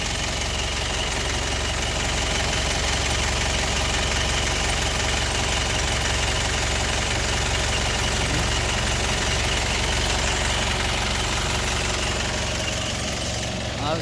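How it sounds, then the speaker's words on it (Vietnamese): The diesel engine of a Kia K2700 truck runs steadily at idle after a fuel solenoid repair, a loud close knocking rumble with constant vibration and no talk. "Máy nổ nha anh em."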